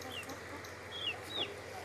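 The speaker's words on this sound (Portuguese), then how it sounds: "Entrou uma galinha aqui dentro." A hen clucks in a home vegetable garden among onion and chive plants, giving a few short, high, separate calls at close range over a steady outdoor background hiss.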